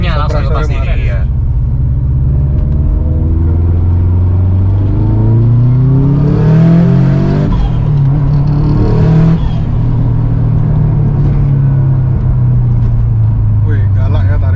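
A Subaru STI's engine revving hard and accelerating, its loud rumbling roar climbing and falling in pitch. The sound stays close and continuous, and a person briefly exclaims over it.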